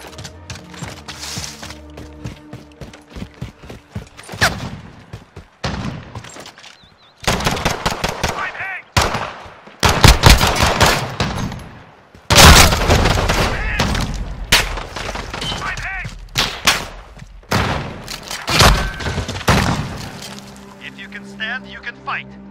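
Call of Duty Modern Warfare gameplay with loud, dense bursts of automatic gunfire and single shots in rapid volleys, broken by brief lulls, mixed with in-game voices shouting.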